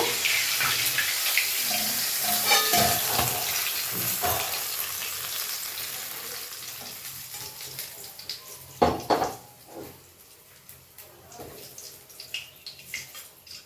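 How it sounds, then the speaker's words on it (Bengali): Pomfret fish frying in oil, a loud continuous sizzle mixed with running water from a tap, followed by clattering kitchen knocks and then a quieter sizzle. "এবার বাকি মাছগুলো ভেজে নেব"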